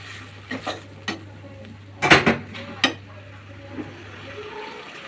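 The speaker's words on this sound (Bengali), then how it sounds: "চিংড়ি মাছগুলো দিয়ে দিলাম।" Raw shrimp tipped into a pot of cooking lentils with green chilies, cucumber and tomato, followed by a few sharp spoon-on-pot knocks and scraping stir sounds over a steady low hum, with a brief louder clatter near the middle.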